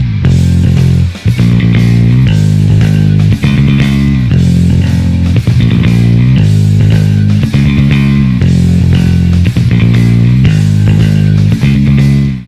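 Electric bass playing a bass line with slides and a muted dead note, loud and steady in a repeating riff with a fuller band-like texture and no talking.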